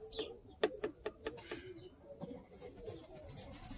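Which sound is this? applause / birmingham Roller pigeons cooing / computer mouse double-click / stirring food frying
birmingham Roller pigeons cooing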